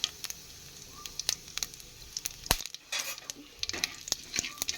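Whole garam masala, two dried red chillies and cumin seeds sizzle in a little oil in a kadai, close and fairly quiet, with sharp crackling pops and occasional stirring clicks.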